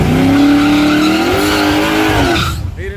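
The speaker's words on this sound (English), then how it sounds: "a glue burnout again." A small-tire drag car does a burnout in a street outlaw race, its tires shrieking in a loud, sustained squeal with a rising engine howl that cuts off abruptly near the end.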